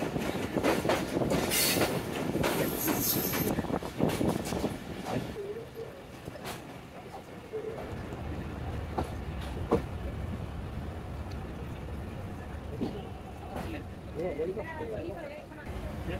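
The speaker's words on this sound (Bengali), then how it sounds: "জয়দেবপুর কমিউটার তেজগাঁও রেলওয়ে স্টেশনে প্রবেশ করছে 11:25" A Joydebpur commuter train rolls into Tejgaon railway station, loud rumbling wagons and clattering wheels with screeching squeals early on, settling into a lower steady rumble as it slows, with voices present.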